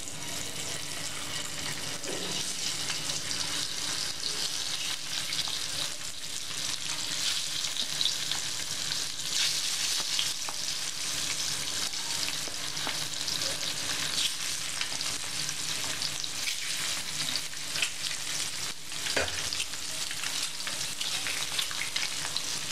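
Egg frying in an oiled pan with salt for Tamil-style egg masala, a steady close sizzle running throughout with occasional light stirring scrapes and no voices.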